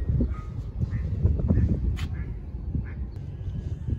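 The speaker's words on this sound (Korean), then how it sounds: "밖에서 꽥꽥 소리 나는데?" Ducks quack repeatedly at a moderate distance over a rumbling outdoor background, with no talking.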